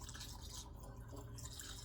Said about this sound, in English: And I'm going to fill it the rest of the way up with water,